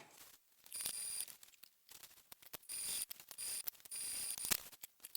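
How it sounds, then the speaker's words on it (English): A sewing machine stitching across fabric while attaching a strap to a bag, heard as several bursts of fast mechanical needle clatter separated by short pauses. "I'm going to start sewing across this side first to attach it and then go down the rest of the rectangle"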